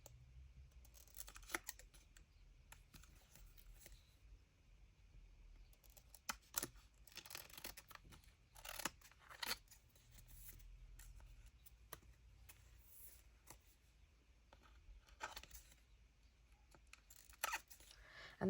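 Scissors trimming paper for a junk journal, heard as a series of quiet, close snips and crisp paper rustles spread irregularly across the stretch with soft handling noise between them.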